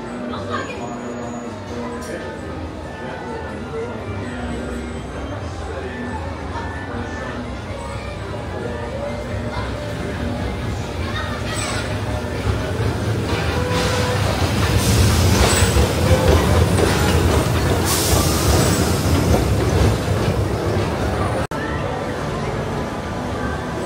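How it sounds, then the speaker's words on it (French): A Disneyland Paris train pulls into Main Street station with a steady rumble and wheel noise that swells toward the middle, while people chatter throughout. "Christophe, qui va arriver incessamment sous peu dans cette gare de Main Street."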